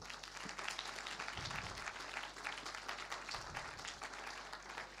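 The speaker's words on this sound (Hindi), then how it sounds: "भाई के लिए ज़ोरदार तालियां बजा दें" Steady applause from a church congregation during a Sunday sermon, dense and continuous at moderate distance, with a couple of brief low thumps.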